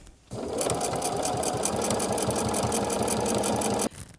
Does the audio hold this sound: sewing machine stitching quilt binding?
yes